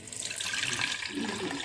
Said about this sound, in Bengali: এরকম একটা ছোট্ট বাটি দিয়ে দেব, তার মধ্যে কিছু জল দিয়ে দেব।